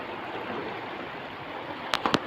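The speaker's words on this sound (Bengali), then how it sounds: "এই দেখো জল মাটির ভেতর থেকে জল চলে আসে" Water seeps up out of the ground at a natural spring, a soft, steady, fairly faint trickling hiss, with a few small knocks just before the end.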